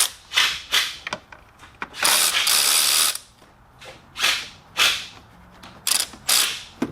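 A ratchet with an 8mm socket loosens a bolt on a Hemi engine in a series of quick, close clicking bursts of varying length, with short pauses between the strokes.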